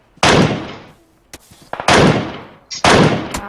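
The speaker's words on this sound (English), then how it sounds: "One at the tree shooting at you." Gunfire in a first-person shooter video game: three loud, sharp shots spaced about a second apart, each ending in a short echoing tail, with faint clicks and thuds between them.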